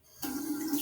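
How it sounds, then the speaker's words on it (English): Water from a tap starts abruptly and keeps running in a steady, fairly faint hiss as hands are washed, heard alone and with no talk. "I'm washing my hands."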